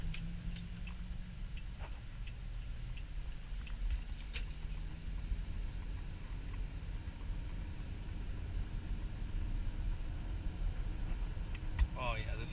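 A 2014 Toyota Camry SE with the 2.5 engine is driven at night in Miami, heard from inside the cabin as a steady low engine and road drone with faint ticks running throughout.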